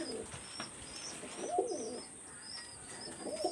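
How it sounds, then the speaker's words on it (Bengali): Golden single male pigeon cooing in a few soft, low rounded phrases, with faint chirps from other birds high above and no talking. "এটা কিন্তু একটা গোল্ডেন সিঙ্গেল নর কবুতর,"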